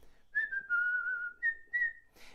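A person whistles a short melodic phrase imitating a starling, several sustained and sliding notes with brief pauses, clear and close, no talking.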